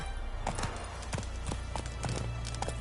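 Roach the horse trotting in Witcher III, a steady run of clear clip-clop hoofbeats over a low humming game background, evenly paced and moderately close.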